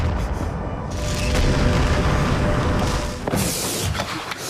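A bomb detonates in a TV drama scene, a loud booming blast followed by a sustained roaring rumble, with a second surge of crackling debris noise near the end.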